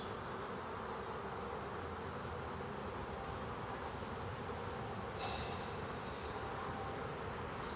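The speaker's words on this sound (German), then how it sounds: "wir sehen hier ganz viele Bienen auf den Oberträgern" Dense, steady buzzing of many honey bees swarming over the top bars of open Langstroth and Segeberger hive boxes during a colony inspection, loud and close throughout with no talking.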